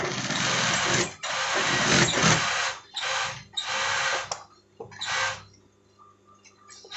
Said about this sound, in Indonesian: Ini kita jahit sampai ujung catrekan ini ya.